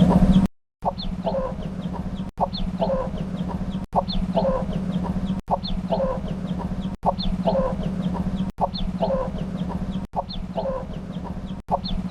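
Native-breed chickens cluck repeatedly at close range in a steady, looping rhythm over a constant low hum.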